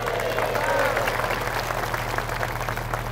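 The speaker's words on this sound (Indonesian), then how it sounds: "Kalian enak aja tepuk tangan." An audience claps and applauds at an Islamic boarding school gathering, a brief burst of hand clapping mixed with a voice and a low hum.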